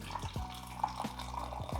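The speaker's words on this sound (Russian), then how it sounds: "Все, сейчас наливаем чайку" Tea being poured into cups at a home table, a steady close liquid trickle with a few soft clinks, no talking.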